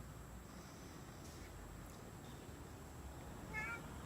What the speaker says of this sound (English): That's one hungry little kitty cat there.